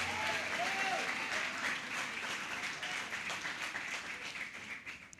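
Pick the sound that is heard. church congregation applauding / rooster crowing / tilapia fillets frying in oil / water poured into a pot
church congregation applauding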